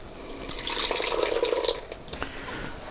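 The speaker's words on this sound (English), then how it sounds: "I'm going to pass it through a sieve" Home-made tomato soup pours through a sieve with a soft liquid trickle and drip that swells for about a second, then eases to faint splashes.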